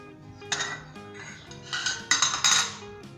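Metal lid lifted off a steaming cooking pot of bread pudding, with a few clanks and scraping metallic clinks that swell and fade over a few seconds, close by, no speech.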